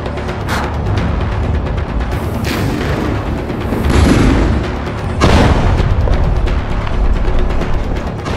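Heavy booming blasts from Israeli air strikes, tank and artillery fire in Gaza near Khan Younis, a dense, continuous roar of explosions with louder surges partway through, no talk.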